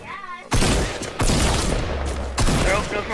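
Rapid Fortnite gunfire bursts out loud and close, a dense fusillade of shots in several clusters with short gaps between them, under a player's shouted voice.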